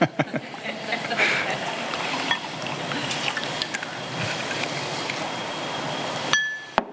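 Drinking water is poured from a bottle into a glass at a conference podium: a steady trickle with small glassy clinks, close and fairly loud, running several seconds before stopping abruptly with a final clink.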